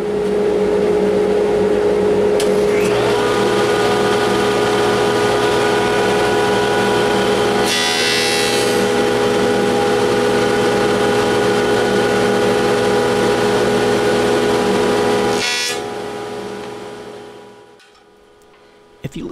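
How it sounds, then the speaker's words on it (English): Jointer cutter head planing a bowed board: a loud, steady machine whine with a tonal hum runs throughout, marked by two brief rougher bursts of cutting, before the motor spins down near the end. "you could hear the cutter head engaging the board at the beginning of the board and at the end"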